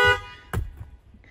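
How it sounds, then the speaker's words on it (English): A single short factory car horn beep, thin and nasal, sounds once after a fading tone, then quiet. "lame factory horn"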